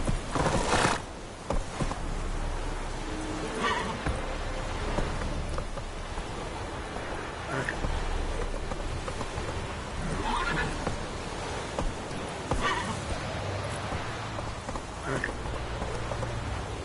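Roach the horse in a PS4 video game whinnies loudly at the start and again later, between soft clip-clopping hooves over a steady rain-like background, with no talking.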